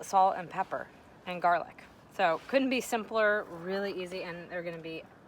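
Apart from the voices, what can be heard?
No everyday noise stands out behind the speech.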